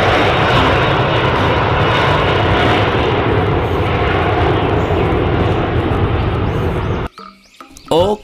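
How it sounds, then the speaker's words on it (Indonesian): An airplane roars steadily overhead, loud and close, its engine drone filling the air before cutting off abruptly near the end, leaving a faint scrape. "ada pesawat terbang."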